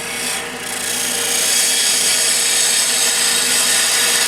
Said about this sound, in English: It's not shear scraping, that's the slice. I'm rubbing the bevel with that cut.